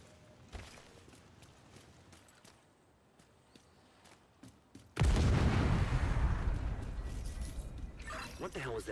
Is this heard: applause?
no